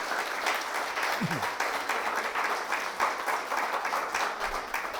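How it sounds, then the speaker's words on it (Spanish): Church congregation applauding during a sermon, a steady wash of many hands clapping at moderate volume throughout, with no voices rising above it. "Los aplausos tienen que ser siempre para dar gloria al Señor"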